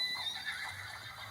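Horse neighing in the video game Red Dead Redemption 2, a short whinny with a steady hiss of game ambience underneath, fairly faint and without speech.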